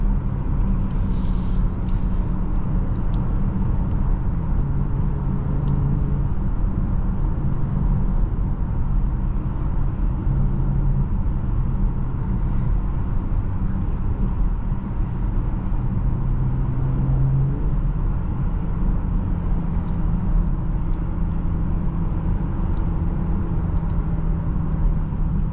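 A 2024 BMW X5 xDrive40i cruises along with a steady low engine hum and smooth road roar from inside the cabin, constant and moderately loud throughout, with faint ticks and no talking.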